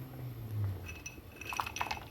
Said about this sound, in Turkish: Bir bardak fındık ilave ediyorum.